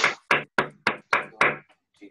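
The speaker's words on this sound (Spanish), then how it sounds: "vamos a darle un aplauso, Andresito" A small class claps for a student, six short sharp bursts of clapping in a steady rhythm, close and fairly loud, fading into a faint trailing sound at the end.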